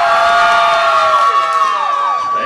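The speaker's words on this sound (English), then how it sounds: "make some noise for Sam" A crowd at the Memory Lane Music Hall bull riding competition cheers loudly for a contestant, with shrill, high-pitched whoops and shouts, many sounding like children, rising and sliding over one another.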